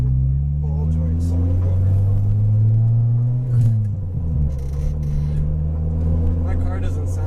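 A Honda Civic with a stock fuel pressure regulator drives along a road, its engine a steady low drone with a slight dip in pitch partway through as the car shifts or eases off, close and continuous.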